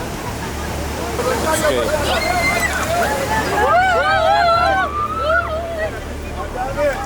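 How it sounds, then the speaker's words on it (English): Floodwater rushes and sloshes loudly into a previously dry riverbed in the Omo Valley of Ethiopia, a continuous roar beneath an excited crowd of people talking and calling out. "the river, a while ago, it was completely dry, and now the water is already here"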